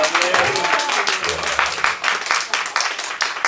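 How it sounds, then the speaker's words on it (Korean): A church congregation applauds during a sermon, with many people clapping loudly and steadily. A voice is briefly heard under the clapping at the start. "이 정도 되면 여러분이 박수를 한번 치셔야지."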